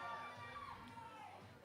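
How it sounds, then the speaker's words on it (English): Spectators at a women's powerlifting meet in Massachusetts cheer and shout from across the hall, a faint, steady crowd roar lasting about two seconds. "You can hear the crowd getting behind her."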